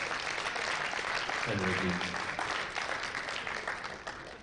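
Crowd applause at a national powerlifting meet, a broad steady wash of clapping throughout at moderate distance, with a male announcer's amplified voice briefly over it.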